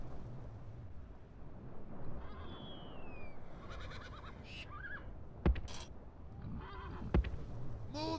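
Horses whinny in Rome: Total War battle audio, a few short neighs over a dense rumbling ambience with scattered sharp thuds; no speech.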